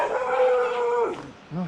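A shaggy dog on a rainy night in the jungle gives a drawn-out whining howl that breaks into a short, sharp bark, close and loud, all within a couple of seconds.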